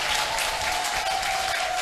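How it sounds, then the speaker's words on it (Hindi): An audience claps together at a devotional gathering, a steady, even wash of applause that holds for the full stretch with no voices over it. "थोड़ा जोर से बजाओ, हार्ड."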